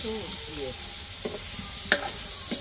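A spoon stirs food frying in a pan, a continuous close sizzle broken by a few sharp scrapes and clinks of the utensil against the pan, heard alone without talk.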